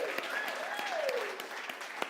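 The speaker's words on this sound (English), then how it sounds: "Let's give her another round of applause." An audience in a Sunday service gives a round of applause, dense steady clapping at moderate distance with a whoop, lasting the whole moment.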